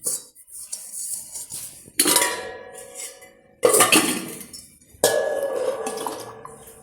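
Water pours from a clay pot at a farm into a metal vessel in three separate splashing pours, each beginning with a clink and trailing off, close by, with no talking.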